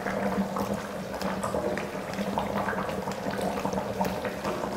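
A pot of kuzhambu with lentil dumplings simmers on a stove, giving a steady, close bubbling and gurgling that carries on without a break.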